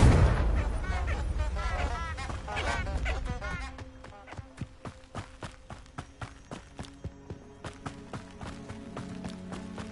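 Spell blast in a Hogwarts video game: a dense, roaring burst of explosive crackle in the first few seconds, then a steady run of sharp, evenly spaced thuds like rapid footsteps or impacts trailing off.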